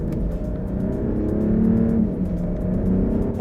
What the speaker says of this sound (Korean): RPM을 이렇게 올릴 때는 엔진 소리가 꽤 많이 들어와요.